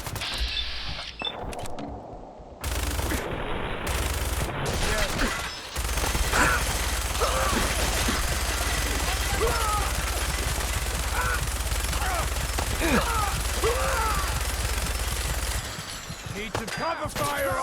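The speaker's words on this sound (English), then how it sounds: "Essa minigun aqui louca, véio. Ateia fogo causando 15 pontos de dano" Minigun firing in the video game Fallout 4, a loud, sustained mechanical roar of rapid fire that holds for over ten seconds, with game sounds and a voice over it.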